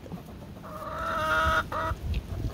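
A pair of thin white leghorn chickens cluck in a short run of close, clear calls, rising to a steady clucking burst that breaks off briefly and resumes.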